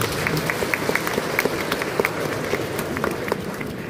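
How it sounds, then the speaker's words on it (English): Church congregation applauding during a Simbang Gabi Christmas Eve Mass, a steady mass of clapping from many hands that holds at an even level throughout. "Please give them a round of applause."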